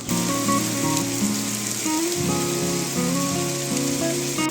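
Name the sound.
heavy rain arriving in a hill village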